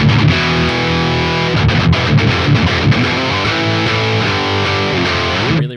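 A high-gain distorted electric guitar through the Neural DSP Archetype Nolly X amp plugin, thick saturated chugs and sustained chords played continuously, loud and alone, ending in a short cutoff.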